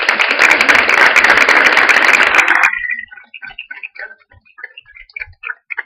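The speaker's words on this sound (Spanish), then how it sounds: "damos un fuerte aplauso" Applause from a panel audience fills the first half, a dense burst of clapping that cuts off abruptly, leaving quiet room noise and faint scattered sounds.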